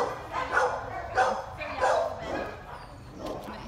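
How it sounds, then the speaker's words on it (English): A one-year-old black and white intact male Dalmatian and pit bull mix barks in several short, fairly loud bursts spaced about a second apart, with people talking nearby. "Eugene is a one-year-old white and black intact male Dalmatian and pit bull mix."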